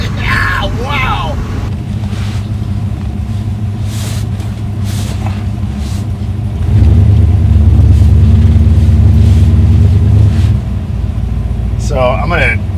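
A muscle truck fitted with a Skip White Performance 383 small-block Chevy engine rumbles with a deep, loud idle and cruise. It swells into a heavier roar for a few seconds before easing back, with people talking over it.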